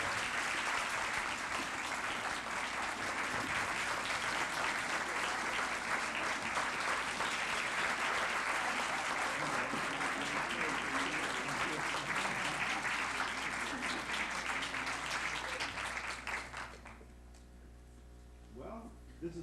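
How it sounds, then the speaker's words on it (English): A standing audience at North Campus applauds a birthday honoree in a long, loud, sustained burst of clapping and crowd noise that cuts off abruptly near the end. "There you have the North Campus family standing and applauding you"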